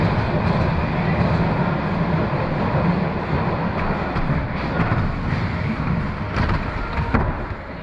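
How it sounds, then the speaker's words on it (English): A London Underground train runs past on an overground stretch of track beside a skatepark, a steady broad rumble with wheel-on-rail roar that swells and lingers throughout, with faint clatters on top. "every now and again there's noisy trains"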